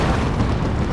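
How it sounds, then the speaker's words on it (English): A deep, rumbling explosion fills a one-second burst from a rocket run in Warhammer 40,000: Dawn of War 2, dense and continuous with no gaps or speech. "There's a rocket run."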